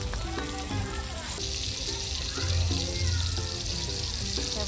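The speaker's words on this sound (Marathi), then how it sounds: "हे बघा टाकला आईने तेल तापलाय." Small surmai fish frying in hot oil in a home kitchen, a steady broadband sizzle running throughout alongside faint clinks and background noise.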